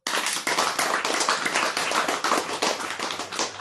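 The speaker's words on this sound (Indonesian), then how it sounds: "Tepuk tangan dulu." Audience applause during an Islamic talk on prayer, dense continuous clapping from a crowd, loud and sustained, tailing off at the very end.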